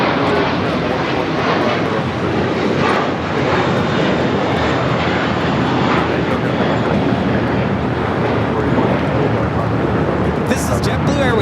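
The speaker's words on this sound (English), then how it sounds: "This is JetBlue Airways Flight 1700 taking off to Fort Lauderdale on the A321" JetBlue Airways Airbus A321 jet taking off at Los Angeles LAX, a loud, steady, broadband engine roar that stays strong throughout, with a person talking over it.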